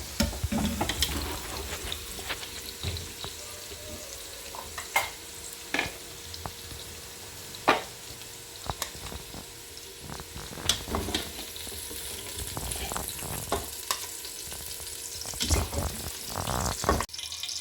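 Okra (bhindi) frying in a pan of oil, a soft steady sizzle broken by sharp clicks and taps of a utensil stirring, fairly quiet with no talking.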